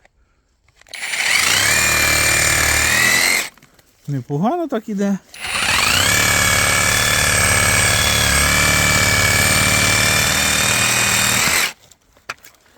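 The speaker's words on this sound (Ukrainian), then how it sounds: "пробуємо обрізати гілки сабельною пилкою" A reciprocating saw buzzes loudly in two long bursts, its pitch whining as it bites through tree branches, with a short spoken remark in Ukrainian between cuts.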